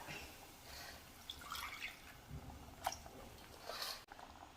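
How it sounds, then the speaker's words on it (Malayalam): Rinse water from a grinder jar poured into a simmering sardine (mathi) fish curry, a faint close trickle with scattered drips and soft liquid splashes, no voices. "ജാറ് കഴുകി കുറച്ച് വെള്ളം കൂടെ ചേർക്കാം."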